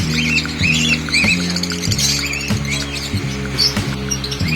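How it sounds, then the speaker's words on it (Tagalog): Birds in a home aviary squawk and chirp in quick, busy bursts throughout, close and fairly loud over a steady tonal background. "nandito tayo ngayon sa Avery ni Boss Ivan"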